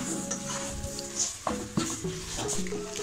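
Chicken cutlet mixture is stirred in a hot pan, with a soft sizzle under irregular spoon scrapes and clinks against the metal, close up.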